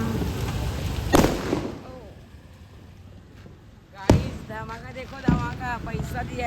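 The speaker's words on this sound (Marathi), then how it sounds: "ले लो रस्सी बम फोडला अभी." Rope bomb firecrackers set off outdoors on a trip to Shirdi crack with three sharp, loud bangs spaced a few seconds apart, while voices talk between the blasts.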